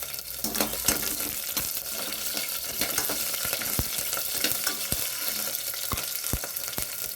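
Steady crackling sizzle of green chilies frying in hot oil over a lowered flame, with occasional sharp taps and scrapes of stirring; no one speaks.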